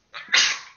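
A single short sneeze comes from someone near the casters of an esports match. A brief breathy intake is followed by a sharp hissing burst that fades within a fraction of a second, alone and fairly close.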